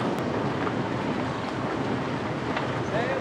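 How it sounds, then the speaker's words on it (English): Sailboat motoring through a narrow channel in gusty wind offshore in the Atlantic, a steady dense roar of wind buffeting and water rush filling the whole stretch, close and loud. "So we're just gonna motor through it."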